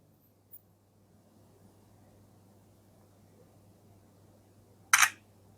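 Realme C61 phone front camera shutter firing once, a single short bright click near the end after a faint tap, over quiet room hiss.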